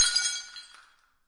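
A bust drops and shatters, giving a bright burst of breaking glassy fragments that tinkle and fade over about a second, close and alone.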